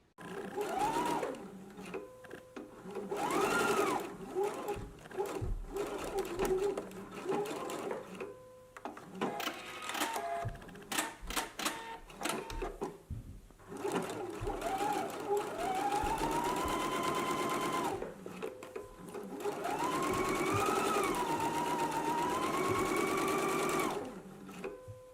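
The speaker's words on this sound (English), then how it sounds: "Let's go ahead and do our stitching now." A home sewing machine stitches a dart in fabric, running in several bursts of rapid mechanical whirring separated by short pauses, moderately loud and close, with a few soft handling clicks between runs.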